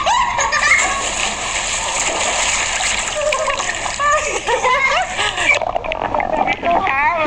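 Water splashes loudly as someone jumps into a backyard swimming pool in Brazil, with children giggling and laughing and people talking over the splashing throughout.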